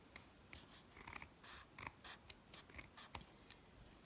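Scissors snip through folded felt fabric in a quick series of about a dozen crisp, close cuts, quiet and uneven in rhythm, with no talking.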